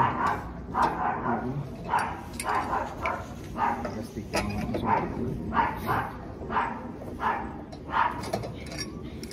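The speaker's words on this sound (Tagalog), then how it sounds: "may aso." Repeated dog barks at a steady rhythm, moderately distant, mixed with background noise and occasional speech.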